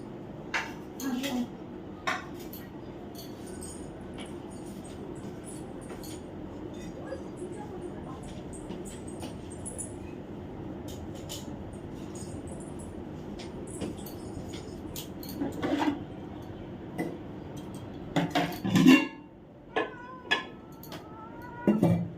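Rice is served into a washed steel tiffin carrier, with faint scattered clinks and scrapes of utensils and lids building toward a cluster of sharper metallic knocks near the end, over a quiet room hum.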